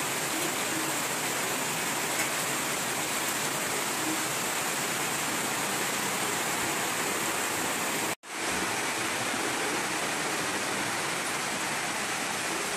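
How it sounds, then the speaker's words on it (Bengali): Heavy rain pours down steadily in a village as water is collected in pots and a drum, a dense, even hiss that briefly cuts out near the end. "এখন বৃষ্টি আসছে"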